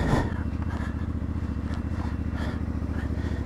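A CF Moto 450MT motorcycle pulls away in first gear, its engine thrumming with a steady rhythmic pulse close by after a brief clunk at the start, with no talking over it.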